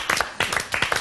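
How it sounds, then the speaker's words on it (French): Three short bursts of hand clapping from a small group in a TV studio on a French talent show, close and lively with brief gaps between the bursts. "moi j'ai envie d'applaudir"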